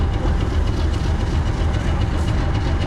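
A Class 50 diesel locomotive passes on the Dean Forest Railway. There is a steady, dense rumble with clattering wheels, loud and close for the whole stretch, with no voices.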